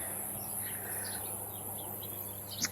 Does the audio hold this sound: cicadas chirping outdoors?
yes